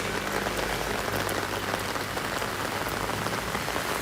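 Heavy rain pours down in a dense, steady patter on surfaces, loud and close throughout with no talking.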